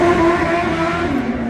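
A Kawasaki Z900 motorcycle at a bike night, its engine holding a steady, fairly loud droning tone close by that eases slightly toward the end.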